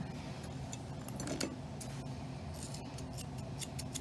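Grooming scissors snipping an English Springer Spaniel's fur during a summer haircut, a quick run of crisp metallic clips close by, with faint background rumble and no talk.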